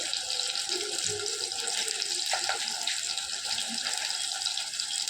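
Ingredients sauté in a hot pan, producing a steady, close hissing sizzle with light crackles that holds evenly throughout.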